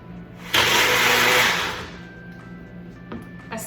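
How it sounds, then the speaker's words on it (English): A kitchen blender whizzes a chocolate mixture with a sudden loud roaring burst lasting just over a second, then winds down into quieter rattles and small clicks. "And the blender does all the work in this."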